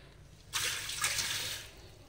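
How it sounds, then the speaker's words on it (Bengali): Hands rinsed under running water: a brief, steady splashing rush lasting a little over a second, close by, then cutting off. "আর হাতটা ধুয়ে নিই।"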